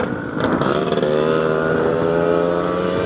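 Motorcycles ride out onto a road just after rain, a steady loud engine drone with harmonic whine that holds throughout, close and continuous with no talk.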